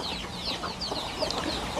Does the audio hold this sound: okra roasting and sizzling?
no